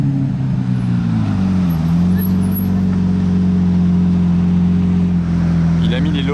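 A Lamborghini Aventador engine idles loud and close, a deep steady drone that dips in pitch early on and then holds evenly for several seconds.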